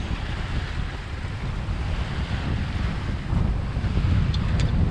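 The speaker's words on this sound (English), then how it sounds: "Just enjoy the wind and the waves." Wind and waves aboard a sailboat under reefed main and genoa with the motor off, a continuous rushing wash of water against the hull and heavy wind noise on the microphone, steady and loud with no talking.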